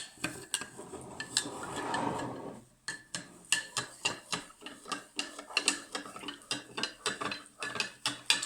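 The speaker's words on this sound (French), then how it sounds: "il faut essayer de bien mélanger pour que le sel se dissout, pour que l'eau devienne très salée" A spoon stirs salt into water, clinking and scraping against the container in a quick, regular rhythm of sharp metallic taps. A brief swishing blur comes first, then the rapid clinks repeat steadily and close up.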